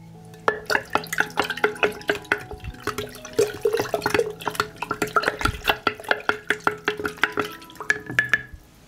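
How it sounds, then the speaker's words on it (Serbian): A spoon stirs sugar into water in a container for homemade natural fertilizer, giving a steady run of sharp clinking taps and liquid swishes close by, with no talk. "I sve ću dobro promešati."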